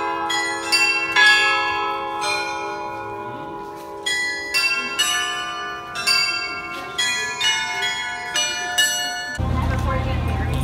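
Church bells in Prague ring out in repeated, overlapping strikes with long resonant decay, a steady peal heard at moderate distance before noise cuts in at the end.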